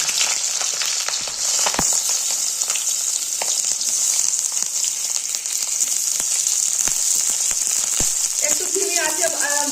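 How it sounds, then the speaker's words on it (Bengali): Prawn and coconut paturi wrapped in banana leaf fries in hot oil in a wok, giving a loud, continuous crackling sizzle with scattered pops that lasts the whole time. "এবার আমি আস্তে আস্তে করে এই যে কড়াইয়ের তেলেতে ছেড়ে দেবো"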